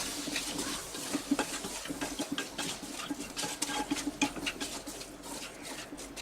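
Spiced peas and brinjal sabzi with garam masala, Kashmiri red chilli, coriander powder and salt stirred in a pan, giving soft irregular scraping and clinking taps over a low steady cooking hiss, close and fairly quiet.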